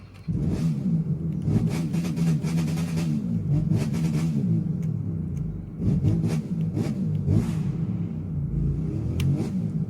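A small Ducati off-road motorbike engine in the video game The Crew 2 revs steadily with a rough, buzzing drone, rising and falling in several throttle bursts, close and loud with no talking.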